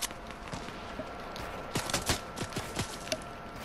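Gunfire from sniper rifles in a Fortnite Team Rumble match (Season 10), heard as a handful of sharp, fairly loud shots spaced irregularly over a steady game background, clustered in the second half.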